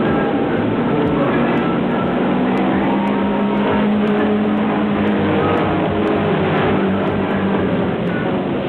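Specially modified racing big rig trucks, around 10,000 pounds each, roaring around a race track as a dense, continuous engine rumble that stays loud and steady throughout.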